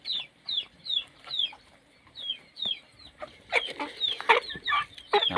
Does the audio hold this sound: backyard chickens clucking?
yes